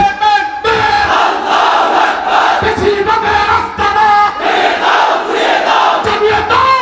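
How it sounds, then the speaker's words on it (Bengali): A large crowd at an Islamic political rally in Lakshmipur, Bangladesh, roars the slogan Nara-e-Takbir in loud, rhythmic call-and-response chants, voices swelling together in repeated surges. "সেই স্লোগান হবে নারায়ে তাকবীর, নারায়ে তাকবীর"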